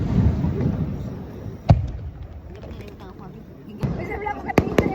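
Summer matsuri fireworks thud and crackle in the open air, with deep booms and sharp bangs under a steady crowd murmur and nearby voices.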